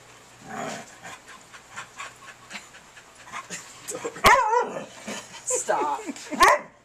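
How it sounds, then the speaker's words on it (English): A dog panting, whimpering and yipping, then giving a few sharp close barks, with a person talking intermittently over the sounds. "Don't bark, please."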